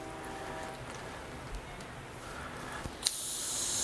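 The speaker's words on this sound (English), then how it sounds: "So I got this watering wand. Whoa! Lots of air in my hose." A garden hose watering wand sputters and hisses as trapped air spits out, a faint steady spray that bursts into a louder, brighter gush near the end.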